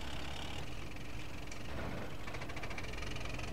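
A slow tractor engine in the video game GTA San Andreas drones steadily at low idle-like revs, a continuous rough rumble with faint knocking, alone and fairly quiet.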